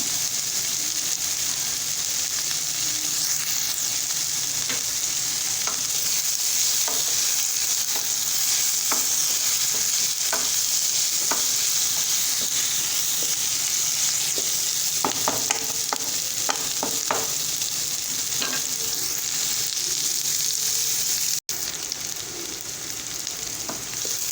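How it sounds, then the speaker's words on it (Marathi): Onion roasts in a pan for a spicy onion chutney, giving a constant close sizzle with repeated scraping and stirring taps. The sound drops abruptly near the end and then carries on more quietly, with no voices. "हे पा आपला कांदा भाजत आहे"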